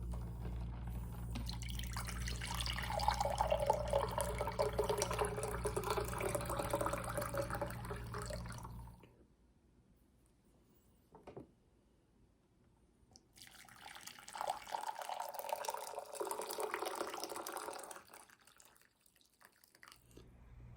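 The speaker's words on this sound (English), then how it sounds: "one of the versions of water was hot and then the other version was cold" Water poured twice, once hot and once cold: two steady splashing streams of several seconds each, separated by near-silence with a brief drip or clink between them, no talking.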